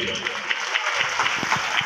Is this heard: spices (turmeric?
no